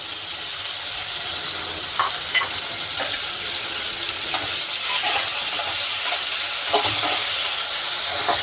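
Chopped onion sizzles loudly in hot oil tempered with curry leaves for a Goan-style tender coconut prawn dish, with steady frying hiss and intermittent stirring scrapes close by.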